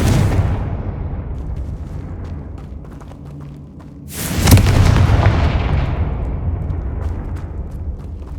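A Confringo fire curse bursts with a loud, close, booming explosion in the Hogwarts Legacy video game, cutting through a heavy, continuous rumble of background ambience.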